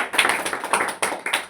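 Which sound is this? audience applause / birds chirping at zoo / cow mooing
audience applause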